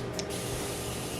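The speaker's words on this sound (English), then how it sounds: "I'm gonna give her a little spray down actually. That moss is pretty" A spray bottle mists dry moss in a plant terrarium, one short, close hiss that fades into quiet background.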